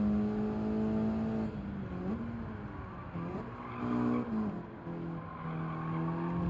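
A race car in Gran Turismo 7 braking hard then accelerating, engine tone dipping as tires squeal briefly, then climbing through revs in steady rising pitches, loud and close with no talk.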